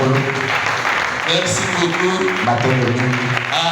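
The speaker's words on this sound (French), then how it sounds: "Acclamez très fort." A church audience at a Thursday evening service cheers and claps loudly, the applause steady and full throughout, with a voice speaking over it.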